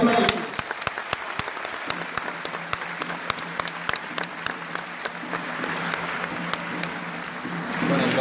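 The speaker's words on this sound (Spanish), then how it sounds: "Dense todos un fuerte aplauso." A church congregation gives loud applause during a thank-you from a deacon. Many sharp individual claps stand out above a continuous wash of clapping, which carries on steadily throughout.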